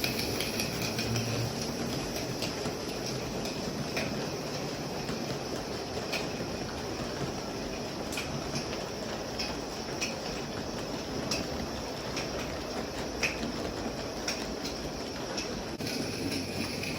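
A radio-controlled live steam Shay model locomotive runs outdoors, giving a steady, busy chuffing and metallic clatter with occasional sharper clicks throughout, fairly close and continuous.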